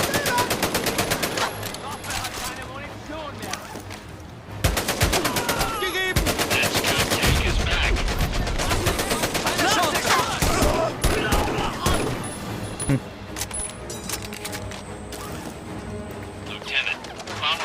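Machine gun fire rattles in the video game Medal of Honor: Above and Beyond, with loud, sustained rapid bursts and scattered shots that continue through a brief lull and then return.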